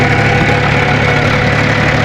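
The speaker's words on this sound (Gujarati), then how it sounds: "આ છે આપણું ટ્રેક્ટર" A heavy tractor engine idles steadily at close range, a constant low rumble with a faint knocking throb and no voices.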